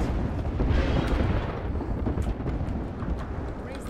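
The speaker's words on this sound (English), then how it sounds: "I'm in the middle of the airstrike." Airstrike explosions in the video game Apex Legends, a dense, loud rumble of overlapping blasts that continues steadily throughout.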